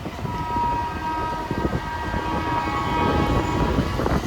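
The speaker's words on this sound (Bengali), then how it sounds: "স্টেশনে ট্রেন আসছে একদিকে বাইক একদিকে ট্রেন" A train arrives at a station near Patratu, rumbling past nearby with a steady low roar and rattling wheels, a sustained horn-like tone riding over the noise.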